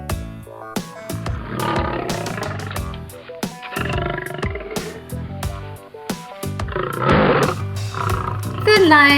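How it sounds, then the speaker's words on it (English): A lioness gives a series of rough roars and growls in loud bursts, with sharp, rhythmic sounds running alongside. "Lioness."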